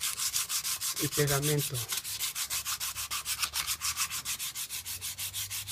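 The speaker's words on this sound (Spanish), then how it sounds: "lo primero que vamos a hacer va a ser lijar toda la superficie" Rhythmic back-and-forth sanding scratches the hard surface of a PVC water pipe at a steady brisk pace, close up, with a short spoken phrase briefly over it.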